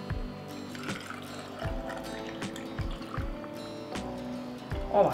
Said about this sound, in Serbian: Tegle ću sada napuniti sa vodom.